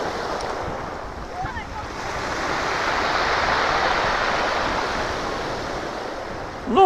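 Waves of the Sea of Japan near Vladivostok wash steadily onto the shore, a broad rolling surf with wind buffeting the microphone, swelling gently and fading, with a brief voice near the end.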